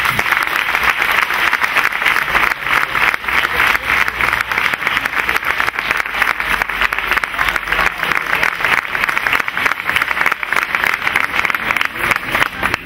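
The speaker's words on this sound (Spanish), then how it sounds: "Fuerte el aplauso." An audience at a San Isidro festival proclamation claps loudly and steadily, a dense continuous round of applause from a large crowd lasting well over ten seconds without a break.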